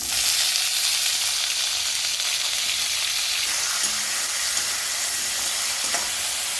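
Cumin, ginger, green chilies, Kashmiri chili and tomatoes frying in oil in a kadai give a loud, steady hiss and sizzle, with a few faint stirring clinks partway through.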